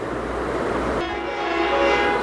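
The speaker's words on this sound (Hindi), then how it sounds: "वो हॉर्न कितना तगड़ा लगा रखा है।" A loud, sustained vehicle horn blares for about a second over a low rumbling road background.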